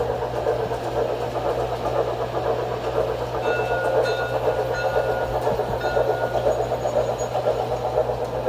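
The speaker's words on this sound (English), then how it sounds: "You just push the button on the wall, the train will just drive around." A small park train rumbles steadily along its track with a constant low hum and faint rhythmic clatter, running continuously at moderate loudness, at Bonnet Springs Park in Lakeland, Florida.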